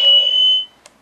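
A Power Rangers Legacy Dragon Dagger toy key sounds a short, shrill electronic alarm-like beep, steady for about half a second and then cut off, followed by a faint click, close and alone.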